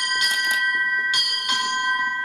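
A ship's bell on a ceremonial quarterdeck struck in two paired strokes, four ringing metallic tones with long sustained decay, clear and fairly close with no talk.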